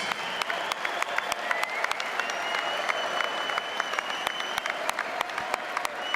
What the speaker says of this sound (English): a round of applause, please, for both of these fighters